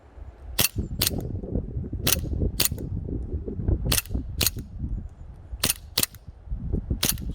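A WE Glock19x and an Armorworks Glock 19 airsoft pistol are fired together in cold weather, giving sharp, loud cracking shots in irregular pairs and singles over several seconds, with people talking underneath between shots.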